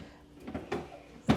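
A refrigerator drawer meant for ginger, garlic, onions, lemons and limes being handled, a few soft plastic slides and knocks followed by a sharper closing thump near the end, close by with no talking.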